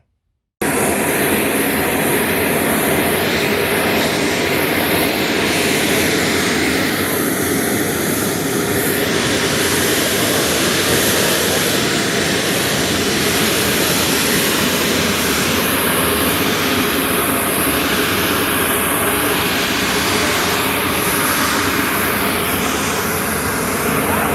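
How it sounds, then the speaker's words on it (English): Steady broadband roar of a large aircraft's engines in flight on a trip to Afghanistan, loud and continuous throughout with no talking. "we all got on a big aircraft and headed off to Afghanistan"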